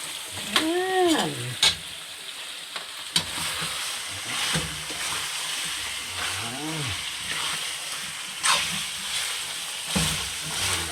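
Pork ribs fry and sizzle in a pan with a steady, close hiss while being stirred, the scraping movements coming in intermittent bursts as voices speak briefly over the cooking.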